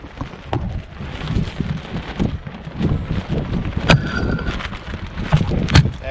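Strong wind at a beach campsite buffets a tent and tarp in gusty rumbles, with flapping thumps and rattles from the fabric up close.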